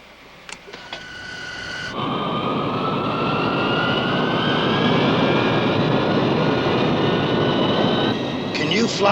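A plane's engine spools up for takeoff in a film scene, a loud roaring whine that swells after a brief low start and holds steady, with faint sounds at the start and end.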